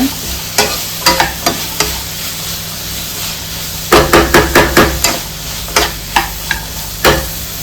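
Potato filling for samosas fries in a pan while a spoon stirs it, giving sharp, irregular scraping knocks in quick clusters over a low, steady sizzle, close and loud.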